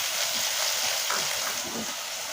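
Ground spice paste for egg chammandi cooking in a hot pan over a low flame gives a steady, even sizzle that stays close and continuous throughout.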